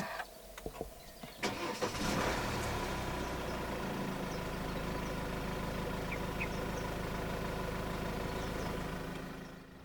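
A 2019 Hyundai Tucson 2.0 CRDi diesel cranks briefly after a push-button start, then catches and settles into a steady, loud idle close by with a low rumble that continues to the end.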